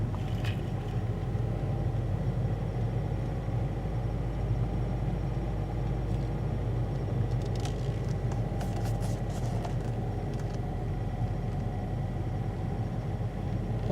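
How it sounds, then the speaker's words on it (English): A manual-transmission car rolls slowly in first gear with a steady, low engine drone and cabin rumble, even and continuous throughout, with faint clicks partway through. "we are just rolling in first gear"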